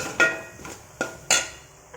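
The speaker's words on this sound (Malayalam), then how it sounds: "എല്ലാ തേങ്ങയും ഇട്ട് ഒന്ന് ഇളക്കി ആ പച്ചമണം പോണ വരെ ഒന്ന് ഇളക്കിയെടുക്കുക." Grated coconut is stirred in a pan for Kerala-style jackfruit puzhukku, with a few distinct knocks and scrapes of a spoon against the pan spaced apart, close and moderately loud.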